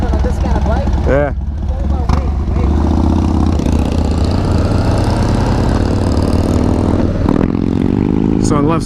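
A 2018 Harley-Davidson Street Bob with a 107 engine on a test ride, its loud, steady V-twin rumble droning close throughout as it shifts into second gear and pulls, with brief rises in revs and a rider talking over it.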